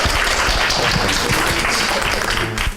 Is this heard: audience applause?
yes